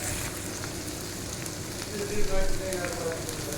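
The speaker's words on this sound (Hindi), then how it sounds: "तो वाइट तिल को थोड़ा सा हम रोस्ट कर लेते हैं।" White sesame seeds roasting in a hot pan give a steady, soft sizzle and light crackle throughout, with a slightly louder flurry midway.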